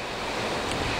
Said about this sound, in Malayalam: പുറത്ത് നല്ല മഴയാണ്, അപ്പൊ നല്ലൊരു സൗണ്ട് കേൾക്കുന്നുണ്ടാവും.